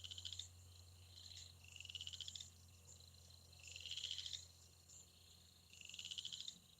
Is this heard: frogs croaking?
yes